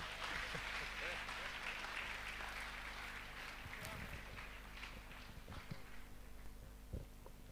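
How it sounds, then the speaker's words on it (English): Teachers clap at an award ceremony for a teacher empowerment programme, a steady, fairly distant ripple of applause over a low hum, with murmured voices and a few sharper claps near the end. "Seplat teachers, please clap for Wonder Woman."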